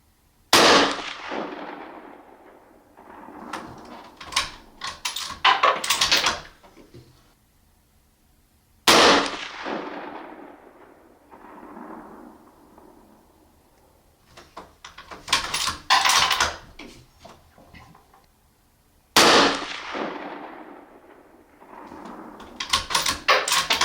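Three rifle shots fired at a target 100 yards away, spaced several seconds apart, each a loud sharp crack with a long decaying echo, followed by clattering, metallic handling sounds and clanks as rounds are loaded between shots.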